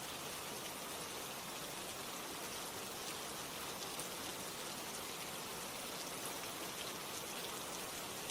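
Rain falls in a steady, dense hiss of countless drops, even and unbroken throughout, soft and enveloping with no voices or other sounds.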